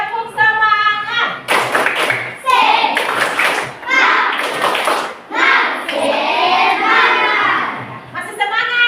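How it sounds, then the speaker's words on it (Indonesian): A group of children claps the rhythmic 'tepuk semangat' pattern during a classroom coding training break, with sharp bursts of clapping interleaved with loud chanted voices. "Tepuk semangat. 1, 2, 3. Tepuk semangat."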